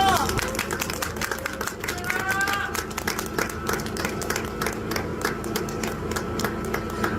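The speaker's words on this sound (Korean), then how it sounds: "박수 한번 부탁드릴게요." Audience applause at a Korean political campaign event, a steady wash of clapping from a crowd, with voices and some cheering mixed in throughout.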